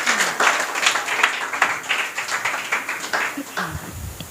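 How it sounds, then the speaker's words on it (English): Audience applause at a confidence-building program at an English academy, a steady wash of many hands clapping for several seconds before fading, with a low voice murmur near the end. "Clap for her."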